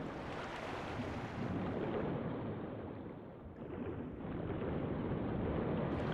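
Underwater diving ambience in the video game Sekiro: Shadows Die Twice: a steady, muffled rushing wash of water, dense and loud throughout, easing briefly midway before swelling again, with no voices.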